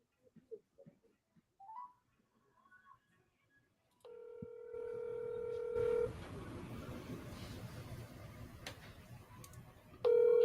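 A telephone plays dialing tones while a call is being placed on a sales talk show, a run of steady beeping tones that starts a few seconds in and holds, then jumps louder near the end, close and clear.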